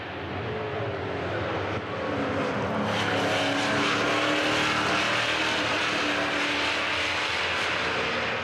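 NASCAR Whelen Euro Series stock cars, a Chevrolet Camaro leading a pack including a Toyota Camry, race at the Dijon circuit, their engines roaring loudly and continuously as the field passes close by.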